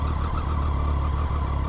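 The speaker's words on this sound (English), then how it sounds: "That interesting whine that this bike has." A 2012 Triumph Daytona 675 motorcycle runs steadily up close with a sustained high whine over a dense engine drone, no voices.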